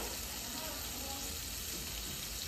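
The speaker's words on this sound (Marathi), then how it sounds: "आपल्याला छान आता बटरला परतवून घ्यायचंय." Butter sautés in a pan for Korean cheese corn, an even, close sizzling hiss that holds steady throughout.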